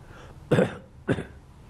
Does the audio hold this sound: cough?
yes